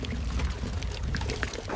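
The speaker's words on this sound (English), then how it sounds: "A woman gently pours the collected dew from a large leaf." Dew poured from a large leaf into a communal water container gives a continuous soft, gurgling pour lasting a couple of seconds, fairly close and without talk.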